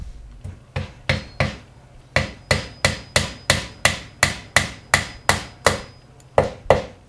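A hammer drives spawn-impregnated wooden dowels into a log to inoculate it for growing mushrooms. About sixteen sharp, close wooden strikes land in a steady, even rhythm, each with a short ringing decay, and no one speaks.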